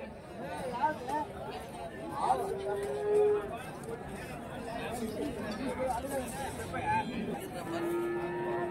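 Cattle moo now and then across a busy village livestock market in Krishnagiri district, the low calls partly buried under steady crowd chatter and nearby talking.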